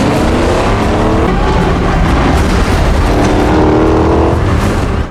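Three-wheeled vehicle racing across desert dunes in a movie scene, a loud, continuous roaring engine with rumbling low end and shifting pitch, dense and unbroken throughout.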